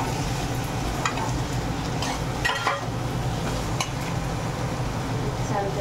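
Moong dal is stirred in a dry pan on a low gas flame, giving soft scraping and rustling with light clinks of the spoon against the pan, and only a faint sizzle underneath.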